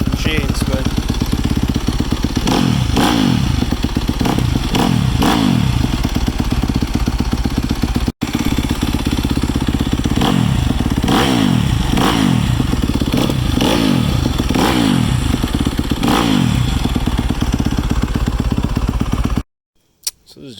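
A 2019 Yamaha YZ250F dirt bike fitted with an FMF 4.1 exhaust idles loudly and close by, a steady lumpy putter broken by repeated blips of the throttle, with a brief dropout near the middle and a clean cutoff at the end.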